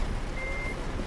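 A truck in a driving video game gives a single short reversing beep, a steady electronic tone held briefly over a low, continuous engine rumble.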